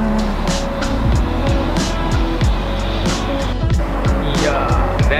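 A Tesla Model S Plaid drives on the road, heard as a loud continuous roll of tire and road noise with rising and falling electric whines and repeated sweeping tones.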